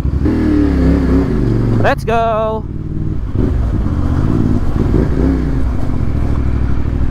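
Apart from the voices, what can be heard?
CF Moto 450 MT motorcycle riding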